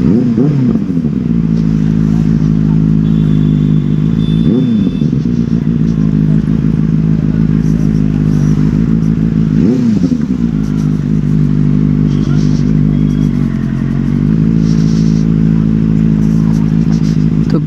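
A superbike is ridden on the road, its engine loud and close, droning steadily with repeated rev rises and dips as the rider shifts gears, alongside light clattering wind and road noise.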